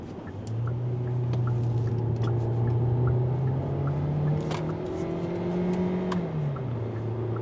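A 2025 Hyundai Elantra Hybrid driving through a corner, its engine drone holding a steady pitch that climbs slightly and then drops, heard from inside the cabin with road noise and no talking.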